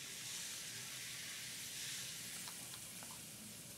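Sherry and bone broth hiss in a hot pan of seared steaks, making a steady, fairly faint sizzle with no voices.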